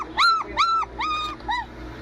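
A dog whimpers close by in four short, high, whining cries, each rising and falling, with brief pauses between.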